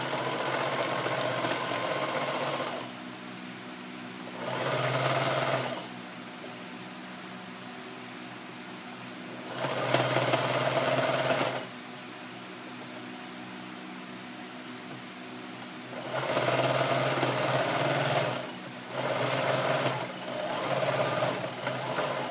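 Sewing machine stitching seams on old denim jeans, backstitching at start and end, running in several loud bursts of steady motor whir with quieter pauses between them, no talking.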